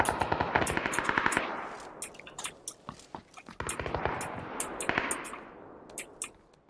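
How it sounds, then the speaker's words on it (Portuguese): Rapid bursts of automatic gunfire in a first-person shooter game, several sharp volleys and single shots spread across the clip at close range, loud and crisp. "vamos dar a rajada"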